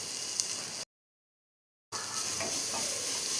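Onion, green chili, crushed ginger and crushed garlic sauté in a hot pan with a steady, close sizzle and occasional stirring. A silent gap of about a second breaks the sizzle midway, and then the frying resumes.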